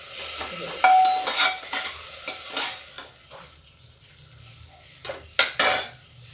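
Chopped tomato tipped into a pan of cooking ridge gourd brings close metallic clinks and scraping stirs over a soft background sizzle, with a couple of sharper clatters near the end.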